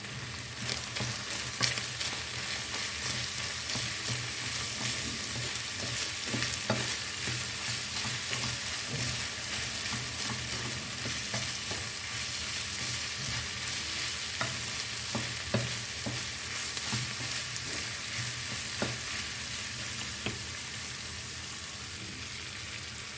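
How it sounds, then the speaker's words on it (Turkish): Red pepper flakes, cumin and salt are stirred into a mixture in a pan for içli köfte, producing a steady close sizzle with soft scraping and stirring strokes throughout and no talking. "Bunları karıştırıyorum canlarım."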